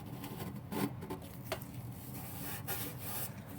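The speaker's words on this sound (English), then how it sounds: "that old gasket comes up, because the new gasket's going to need something to adhere to." Scraping an old gasket off the mating surface of a Saturn L200 transmission pan, a close, steady rasping rub with a few sharper scrapes, quiet and continuous with no talking.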